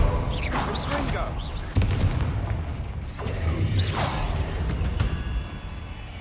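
A Confringo spell is cast in the video game Hogwarts Legacy, heard as several sharp whooshing blasts and booming hits spread through the clip. A swishing cast comes near the middle, over game ambience with voices in the background.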